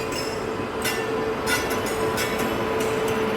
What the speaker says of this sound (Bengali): আর এই দেখুন এপাশে চলে এসছে আরেকটি ট্রেন